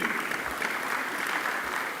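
Applause from the audience at a Nigeria trade-fair roadshow event, a steady, fairly faint patter of clapping that carries on without a break.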